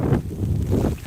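Gusts of wind buffet the microphone on a Tokyo street, a loud low rumbling roar that swells and dips in waves with no other sounds standing out.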